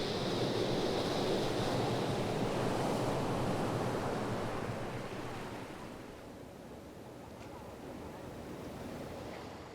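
Steady ocean waves wash around a fishing boat off China, a loud continuous rush of surf that eases slightly in the second half, with wind-like hiss and no speech.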